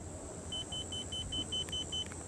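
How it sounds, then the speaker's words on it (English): A Watersnake GPSmart electric boat motor beeps during calibration mode, a quick run of about eight short, evenly spaced high-pitched beeps, clear and close over a faint background hum. "until it beeps like that"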